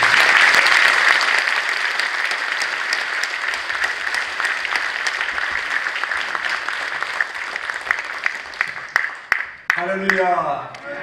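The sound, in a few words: church congregation applauding the pastor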